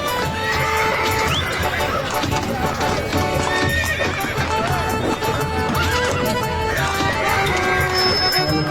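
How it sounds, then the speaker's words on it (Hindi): A horse pulling a tanga cart clip-clops steadily along with rhythmic hoofbeats, snorts and whinnies, set against a busy, dense backdrop of music and voices throughout. "हमें एक तांगा चलता हुआ दिखता है"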